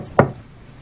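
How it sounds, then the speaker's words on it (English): A single sharp knock on a door, close and fairly loud with a woody thud, then quiet room tone. "Someone's knocking."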